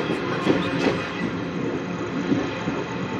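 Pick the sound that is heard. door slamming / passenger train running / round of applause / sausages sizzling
passenger train running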